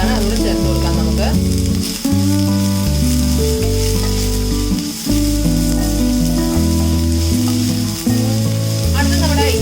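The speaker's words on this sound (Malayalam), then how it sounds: "ഇനി നമുക്ക് ഇതിലേക്ക് നമ്മുടെ ഉള്ളി ചേർത്ത് കൊടുക്കാം" Finely chopped onions sizzling and frying in hot sunflower oil in a Kerala kitchen, a steady loud crackle throughout with occasional stirring and no talk.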